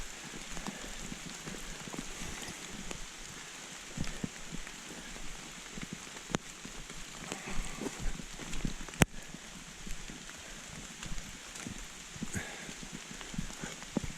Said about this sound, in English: Now, if it rains like this all day, it won't be fun.